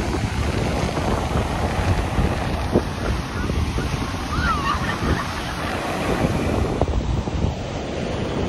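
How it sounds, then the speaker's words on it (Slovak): Ocean surf and gusting wind at Maroubra beach in Australia, a continuous broadband wash of breaking waves with wind buffeting the microphone, steady and close throughout. "A tu je pláž"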